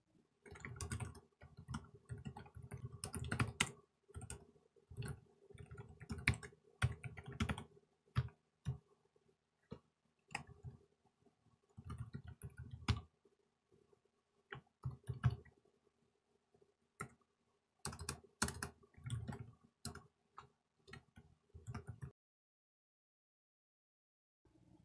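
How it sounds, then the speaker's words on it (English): Computer keyboard typing while editing a Vim configuration file, quick irregular key clicks in bursts with brief pauses, close and soft, ending in silence. "I'll type yet another comment."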